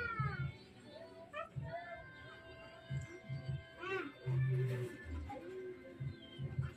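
A cat meows in a few short, rising cries amid people talking nearby and a faint background hum.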